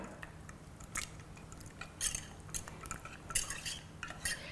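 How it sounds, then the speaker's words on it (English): Chocolate being stirred into hot cream with a spoon in a pan, taken off the stove for a dinner party dish; soft scraping and clinking strokes come in irregular bursts, fairly quiet, with no talking. "I'm going to stir the chocolate in."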